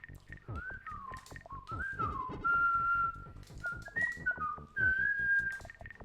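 A person whistles a tune from Super Nintendo Tetris and Dr. Mario, a single clear melodic line with sliding and held notes, fairly quiet and steady over soft background noise.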